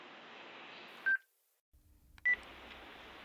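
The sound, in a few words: telephone dialing tones when calling the Fenwood House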